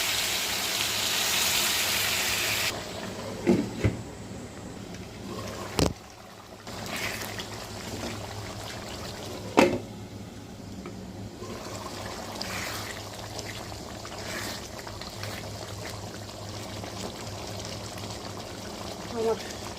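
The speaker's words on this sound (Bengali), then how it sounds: "এখন সেদ্ধ হওয়ার জন্য গরম পানি দেব।" Hot water poured into a pot of chicken curry with potatoes and jackfruit seeds, a steady trickling pour at close range with a few sharp clinks and bumps of the pot and utensils.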